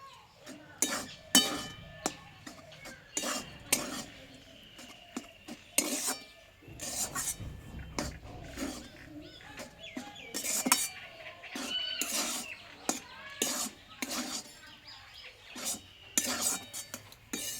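Flour dough being stirred in a metal pan, with water being worked into the atta: repeated sharp scraping and clinking strikes of a utensil against the pan at an uneven, busy rhythm, close and fairly loud.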